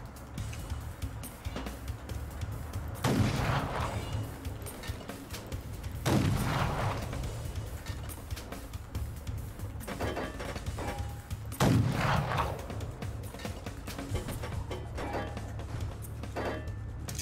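Gunfire in the video game Fallout: New Vegas, a few spaced heavy booming shots about every three seconds over a steady low background rumble, with no talking.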